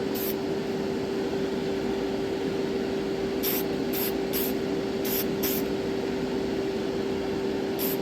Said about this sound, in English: layer of dull coat on the model